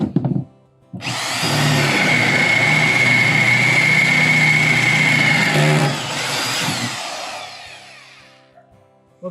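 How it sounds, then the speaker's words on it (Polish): A power drill bores into metal with a water-cooled bit, building a tiny house floor; a loud, steady grinding drone carries a sustained high squeal for several seconds before easing off and stopping. "Bo wiertło już zaczęło piszczeć"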